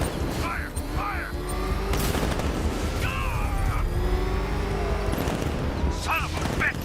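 Gunfire in the Batman Arkham Knight game: continuous rattling bursts and booms mixed with shouted voices and in-game tones, loud and busy throughout.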